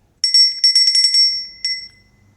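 A bright notification bell chimes in a quick burst of repeated rings, then a single final ring, loud and isolated against near silence.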